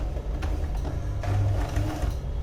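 Sewing machine stitching a seam in fabric with contrasting bobbin thread, a loud close continuous mechanical whir with rhythmic needle clatter, running steadily throughout.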